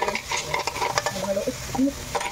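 Clams being stirred in a pot after sautéing aromatics, with a spoon scraping and clinking against the metal over a light sizzle, in steady close strokes with no talk.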